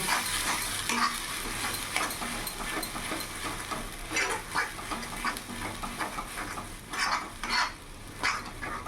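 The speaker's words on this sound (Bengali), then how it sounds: "ভালো করে এখন আমি কিছুক্ষণ কষিয়ে নেব।" Pointed gourd with coconut and sugar is sautéed in a pan, producing a continuous sizzle with repeated scraping strokes of a spatula stirring close by, with no voices.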